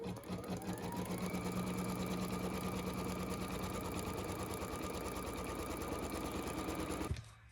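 An embroidery machine runs a zipper pull placement stitch, a steady, fast mechanical whirring and rapid needle clatter held at an even level for about seven seconds before stopping abruptly.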